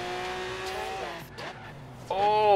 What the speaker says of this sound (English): massive braking, just about made that turn